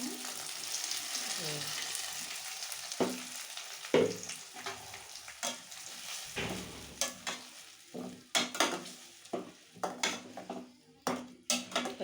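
Masala paste with mint for Chettinad chicken kuzhambu sautés in a pan, a soft steady sizzle broken by sharp clicks of a spoon stirring and scraping the pan, the scraping growing busier and more clattery toward the end.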